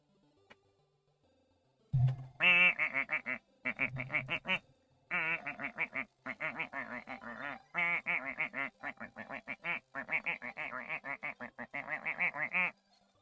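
Disco ducks in a retro video game quack in fast electronic bursts, loud and close, in rhythmic runs over roughly eleven seconds with short pauses between groups.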